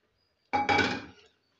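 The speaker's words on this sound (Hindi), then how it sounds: "चम्मच हमने मुसलसल चलाते रहना है।" A spoon moves through hot, creamy kheer in a pot as caramel is stirred in, giving one short clinking scrape followed by a louder, fuller burst of metal-on-pot contact that fades within about a second.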